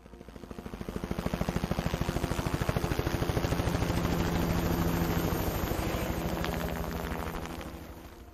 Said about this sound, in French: Et donc plan B, hélico.